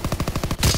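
Rapid burst of gunfire in a first-person shooter game, about eight sharp evenly spaced shots ending in a heavier, louder blast, close and loud with no talk over it.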